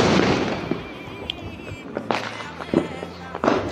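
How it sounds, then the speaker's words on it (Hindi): Diwali firecrackers burst all around at night in Kotdwar, with scattered sharp pops and cracks, some near and some far, over a busy, noisy background. "सब तरह पटाखे फूटे जा रहे हैं।"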